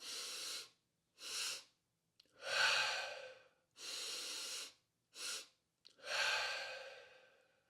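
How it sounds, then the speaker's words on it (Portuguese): Six mouth breaths in a physiological sigh pattern, with short and long airy inhales and exhales separated by silent pauses, close and fairly quiet with no talk. "faz algumas respirações pela boca, tipo um suspiro fisiológico"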